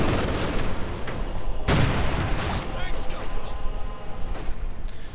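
Gunfire from grenadier infantry opening up on mortar crews in Company of Heroes 2, with sharp shots and a heavy burst of fire under a commentator's continuous talk.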